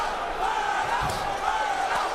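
Boxing arena crowd roars in a steady, loud wash of voices, with a rising chant for Andre Berto during his fight against Jesus Soto Karas, sustained throughout with faint thuds underneath.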